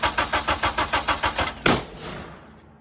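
A 7th gen Honda Civic on a new turbo setup cranks in a steady rhythm of about ten starter pulses, then catches with a sharp burst and settles to a quieter running sound, close and loud.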